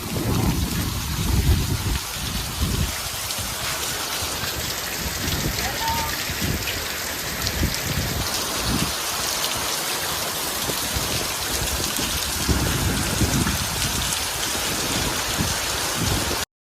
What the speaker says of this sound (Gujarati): આવે હે વરસાદ